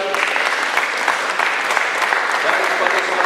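Warm applause breaks out from a gathered crowd honoring a retiring professor, a thick, even wash of clapping throughout with a few voices underneath.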